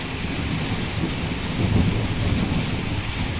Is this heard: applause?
no